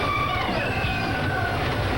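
The Big Thunder Mountain Railroad roller coaster train at the Magic Kingdom rumbles and rattles along its track, a loud continuous clatter with a faint squeal of wheels on rails.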